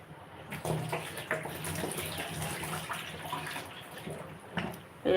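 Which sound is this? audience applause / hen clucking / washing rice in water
washing rice in water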